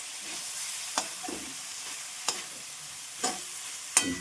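A pea and cabbage curry fries in a pan under a soft, steady sizzle, with a spatula scraping through it about four times at uneven intervals, close and fairly quiet, with no talking.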